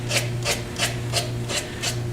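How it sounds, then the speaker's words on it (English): Sandpaper rubs along the grain of a wooden bottle stopper turning on a lathe, six regular rasping strokes close to the microphone over a steady low motor hum. "I'm going to sand with the direction of the grain a little bit, especially over this end grain area"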